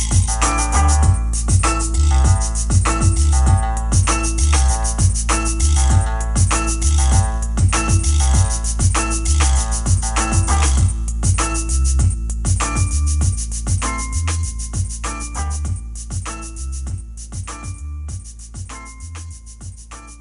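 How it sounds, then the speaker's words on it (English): A full band song with steady drums, bass and layered instruments plays on, then fades out smoothly and gradually over the final seconds instead of stopping abruptly, with no voices talking over it. "I'll extend the fade out back into the song so that it'll fade smooth to the end"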